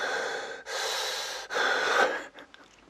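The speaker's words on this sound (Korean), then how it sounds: "알 수 없는 남자의 숨소리에 공포심을 가질 수도 있습니다" An unknown man breathes heavily over a phone call, three long raspy gasping breaths in close succession, loud and near, followed by a few fainter trailing breaths and no speech.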